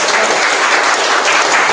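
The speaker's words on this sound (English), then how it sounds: "Can you give a clap?" Steady audience applause in a training session hall, dense continuous clapping filling the whole short stretch at close range, no voices over it.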